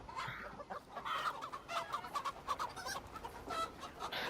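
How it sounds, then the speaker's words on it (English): Chickens cluck and squawk in Assassin's Creed Valhalla, a busy, fairly close flock chattering continuously for several seconds with no talk over it. "Now they're chasing chickens"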